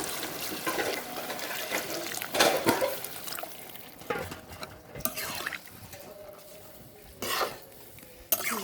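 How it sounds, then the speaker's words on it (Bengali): Broth poured into a pot of chicken curry, with uneven splashing and stirring bursts that swell and fade over a soft background sizzle. "এখন আমি ঝোল দিয়ে দেব।"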